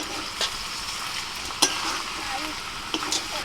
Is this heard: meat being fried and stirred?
yes